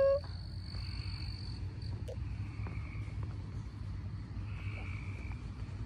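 Frogs in a backyard at night keep up a steady low chorus of croaking, with insect chirps and a faint rumble underneath, continuous and moderately distant.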